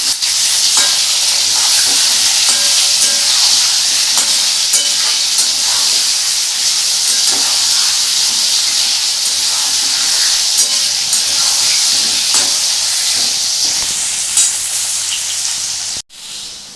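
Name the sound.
potatoes frying in a pan with turmeric and salt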